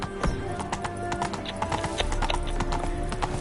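Roach, a horse in The Witcher 3, gallops along with a rapid, regular clip-clop of hooves, loud and close, over a low game ambience with a whinny-like tone.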